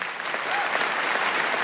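An audience claps steadily after a speech on safety and surveillance cameras, a dense, even wash of applause that holds at a constant moderate level without breaks.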